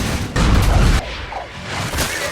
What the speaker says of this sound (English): now the explosion of the gasoline.